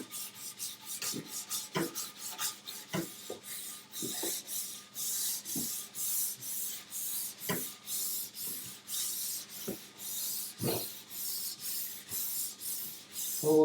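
Structure pad wrapped around a waxing cork rubbed forwards and backwards along a snowboard base, giving a steady, close rasping scrub in rapid repeated strokes with a few louder knocks, no talking.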